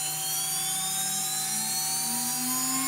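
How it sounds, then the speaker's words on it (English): A CNC router spindle spins up for a wood dog leash holder project, its steady high whine climbing in pitch as it gains speed, loud and alone with no talk. "Let's fire up the spindle."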